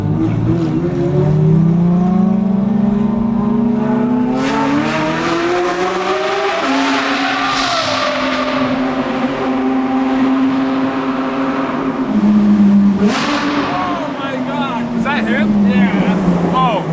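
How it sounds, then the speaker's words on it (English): A Porsche 992 GT3 RS revs hard on a mountain road, its high-pitched engine note climbing and falling through gears, loud and sustained, with people talking over it. "That is by far the loudest car here"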